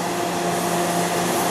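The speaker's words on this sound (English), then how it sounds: "47-foot long frac sand dryer." A 47-foot-long frac sand dryer runs with a steady, loud industrial roar and a constant low hum, an unbroken mechanical drone heard close up.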